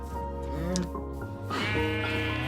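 Sheep in a Minecraft farm bleat loudly and close, two drawn-out wavering calls one after the other, with cows in the same pen.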